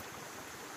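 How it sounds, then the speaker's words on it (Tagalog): Water from a mountain stream in a rural barangay in Lamitan City flows steadily, rushing close by in a continuous broad wash with no pauses and no voices. "Ang ganda ng batis."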